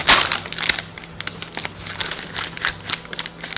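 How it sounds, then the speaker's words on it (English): Scissors snip open a bag of Wildroots organic red quinoa chia tortilla chips, the crinkly plastic crackling and rustling close up in a steady run of short bursts, with no talking. "Now if I cut the bag from the top,"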